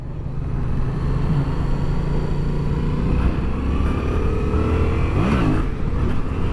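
A 2016 Yamaha FZ-07 motorcycle engine revs loudly and continuously, rising and falling as the rider rolls on and off the throttle, with engine braking heard as the revs drop.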